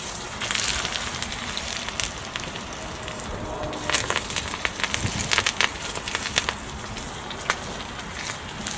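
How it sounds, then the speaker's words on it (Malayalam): Dried red chilies crackle and sizzle in hot coconut oil, a steady close hiss with scattered sharp pops running throughout. "വെളിച്ചെണ്ണ ചൂടായിട്ട് ഫസ്റ്റ് നമുക്ക് വറ്റൻമുളക് ഇടാം."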